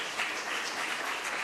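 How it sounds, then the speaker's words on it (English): An event audience claps for the sponsors, a brief steady wash of many hands at moderate distance. "Yes, please give a big round of applause."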